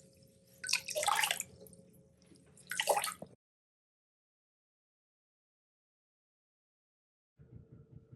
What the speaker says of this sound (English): So all I'm going to do is drain the water, and then I'm going to very gently just squeeze